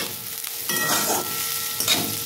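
Fried bottle gourd peel is stirred in a hot pan, a loud close sizzle with a couple of sharp scraping strokes of the spatula.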